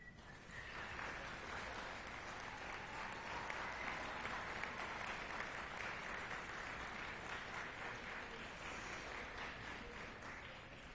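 Graduates at a Sault College ceremony applaud their families, a large indoor crowd clapping steadily and densely for around ten seconds at a distance.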